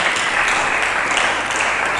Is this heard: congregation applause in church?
yes